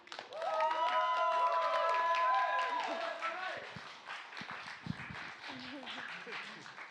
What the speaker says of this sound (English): big round of applause for Dominique